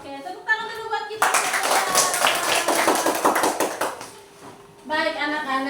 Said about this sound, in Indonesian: Oke, tepuk tangan dulu buat kita.